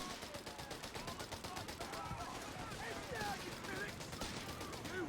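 Rapid, continuous gunfire rattles in a Company of Heroes 3 battle with British forces, dense repeated bursts layered with faint voices in the background.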